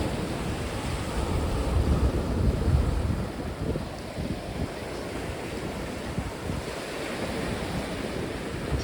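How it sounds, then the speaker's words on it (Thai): Sea surf rolling onto the Danish coast in strong wind, a steady roaring wash of breaking waves mixed with buffeting wind noise on the microphone, continuous and fairly loud throughout with no voices. "ที่นี่ทะเลเดนมาร์กเด้อพี่น้องอากาศก็ดีลมแรง"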